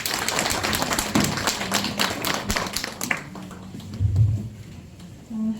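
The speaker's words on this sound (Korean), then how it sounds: "박수로 환영해 주시기 바랍니다" A crowd of residents at a redevelopment briefing in Sadang 3-dong, Dongjak-gu, claps in welcome. The clapping is dense and fairly close for about three seconds, then thins to a few scattered claps amid low room noise.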